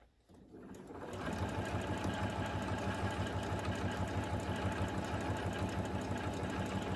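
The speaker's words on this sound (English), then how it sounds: "We want to make sure we're locking in that fabric with this stitch." A sewing machine stitching fabric made from selvages starts up and then runs at a steady, fast, even rhythmic whir for several seconds, close and alone with no talking.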